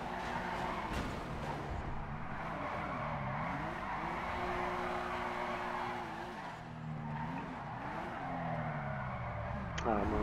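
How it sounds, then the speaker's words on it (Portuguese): Drifting car in the FiveM racing game, with continuous tire squeal whose pitch wavers and slides as it slips through turns over a steady engine hum, while someone talks over it. "Eu não sei se eu consigo fazer drift assim, mano."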